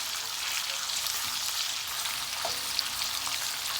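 Sausages frying in a pan give off a soft, steady close-up sizzle with faint crackles and a few small pops, with no talking.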